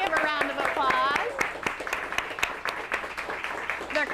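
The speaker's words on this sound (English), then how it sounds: "we would love to welcome our studio audience today. Give a round of applause." Studio audience at a live local TV morning show applauding, steady dense clapping throughout with a few sharper claps standing out, over faint background music and cheering.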